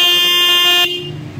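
A Denso compact single car horn, an aftermarket upgrade louder and bassier than the stock horn, blares in one loud steady honk for most of a second, then cuts off abruptly, leaving quiet background.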